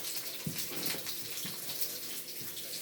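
Sausage sizzles in a frying pan, a continuous bright crackling hiss with a few soft low bumps, steady and fairly quiet, with no one talking.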